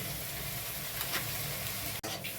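Salt, turmeric and Kashmiri red chilli powder sizzle in a pan over cumin, ginger and chilli paste for a Bengali navaratan korma, giving a steady, close hiss that briefly drops out near the end.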